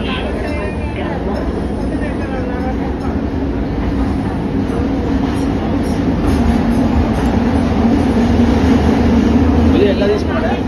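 A metro train at an underground platform in Kuala Lumpur, its steady loud rumble and rolling clatter filling the station throughout, with people talking over it.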